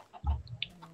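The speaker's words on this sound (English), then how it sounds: "Look at the little chicken." A Minecraft chicken gives a short burst of clucks up close, a brief low flutter followed by a couple of small higher chirps, heard alone without any talking.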